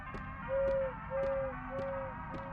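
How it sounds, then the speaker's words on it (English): An animatronic owl in the game Crow Country hoots in a steady series of clear, tonal hoots at even intervals, each paired with a soft clack, fairly close and alone. "He seems like he hoots 5 times, then stops."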